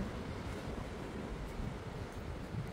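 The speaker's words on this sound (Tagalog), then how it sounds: "Mahangin, mahangin." Strong wind on New Brighton Bridge, New Zealand, buffets the microphone in a continuous low roar, steady and loud throughout with no other clear sounds.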